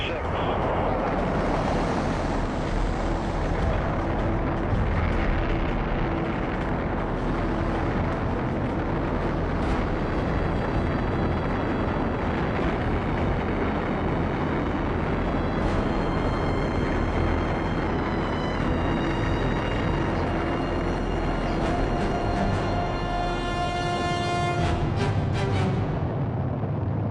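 Rocket engines roar after ignition at a crewed moon-mission launch, a loud, steady, broadband rumble filling the whole stretch with rising tonal whines near the end, and a voice speaking over it.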